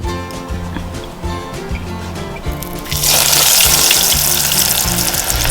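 Onion rings dropped into hot grapeseed oil, a steady crackling sizzle that swells sharply to a loud, bubbling fry partway through, sounding close and continuous.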